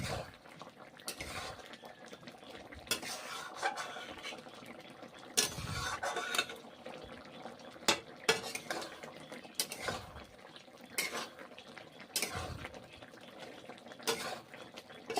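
Okra curry cooks in a pan, with faint metallic scraping and clinking of a utensil against the pan in irregular strokes, low-level and close, without speech.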